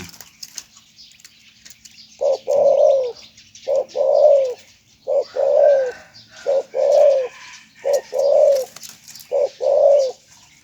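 A decoy dove coos in repeated short phrases, about nine rounded bursts with brief pauses between them, close and clear against a quiet background with faint chirps, and no voices.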